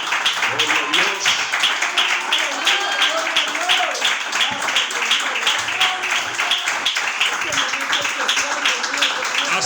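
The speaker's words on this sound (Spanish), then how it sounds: "Denle un aplauso al más grande que Salomón." A church congregation applauds during a sermon, a dense patter of clapping that holds steady over several seconds, with voices mixed in.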